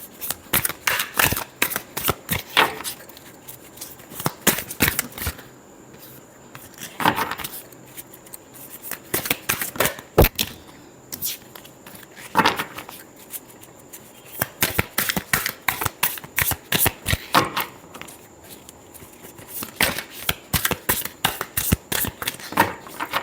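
Tarot cards being shuffled by hand, a long run of crisp riffling and flicking strokes in uneven bursts, close and clear, with no talking.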